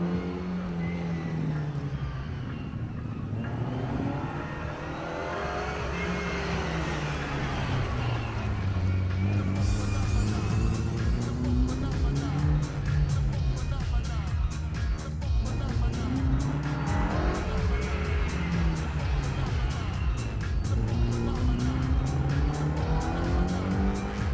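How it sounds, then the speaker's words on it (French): A BMW 2002 Ti rally car at the Rallye du Chablais stage in Champéry drives past, its engine loud and revving through gear changes with rising and falling pitch, while a voice talks over it. "Avec la BMW 2002 Ti que l'on vient de voir passer"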